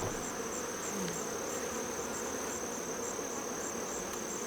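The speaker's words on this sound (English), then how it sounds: "And a lot of those bees did leave, but not enough." Honey bees swarm around an opened Apimaye hive during a honey harvest, a dense, steady, close buzz that fills the whole stretch without pause, no voices.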